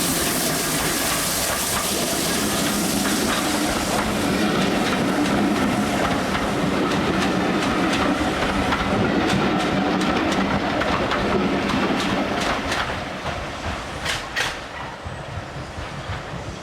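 Steam locomotive No. 3205, a 0-6-0 goods engine, hauls a passenger train between Staverton and Totnes in Devon, its wheels clattering steadily over rail joints at close range, loud and continuous before easing off toward the end.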